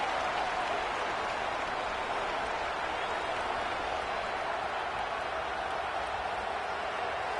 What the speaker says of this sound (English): Here comes the noise from this big crowd in Happy Valley on 3rd down.